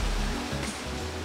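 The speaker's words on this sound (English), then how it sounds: "I take the moment to enjoy walking behind the waterfall" Water pours steadily from a waterfall into an infinity pool, giving a constant broadband rush that stays close and loud throughout, with no voices over it.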